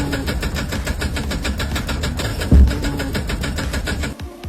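Car engine cranking and struggling to start on a weak, failing battery, a steady rapid pulsing churn throughout with a brief louder knock near the end before it cuts out.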